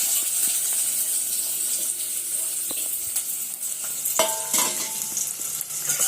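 Onions fry in oil in a pan, giving a steady, close sizzle and hiss, with occasional clinks and scrapes of stirring, no voices.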